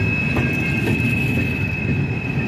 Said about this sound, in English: Lower this so I can hear the train more, please